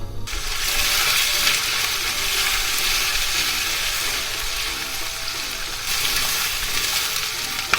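Onions and then garlic sauté in a pot for a potato-and-carrot lentil soup, giving a steady, close broadband sizzle that holds evenly throughout with a brief swell near the end.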